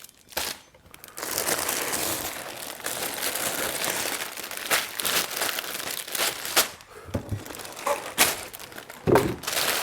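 Plastic bags of LEGO pieces crinkle and rustle up close, with irregular crackling bursts and a few soft thumps as the bags are handled.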